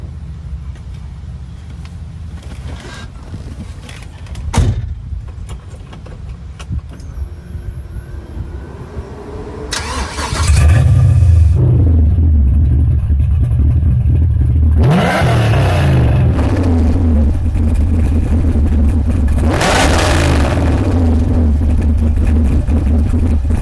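A 1968 Chevelle muscle car engine cranks and catches, then idles with a deep rumble and rises in several loud revs, close by.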